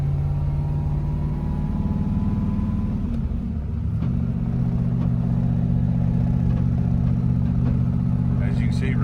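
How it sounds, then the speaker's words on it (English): A 1965 Shelby GT350 V8 rumbles steadily up close, its revs dropping and climbing again as the driver shifts down into second and up into third, a deep continuous engine drone throughout. "we'll just get through all the gears here. Down into second. Up into third now."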